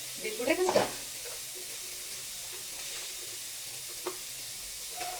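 Cumin seeds dropped into hot oil give a quick crackling sizzle up close, fading into a soft, steady hiss with a couple of faint taps afterward.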